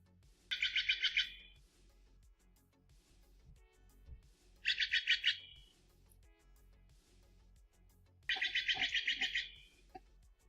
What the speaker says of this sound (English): So these are Stellar Jays.